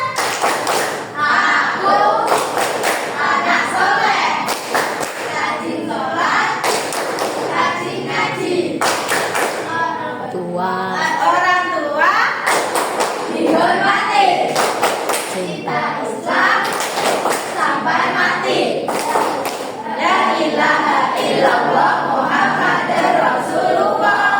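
Children perform the rhythmic 'tepuk anak soleh' clapping chant, loud group claps and thumps in patterned bursts between sung and shouted lines of young voices, close and energetic throughout.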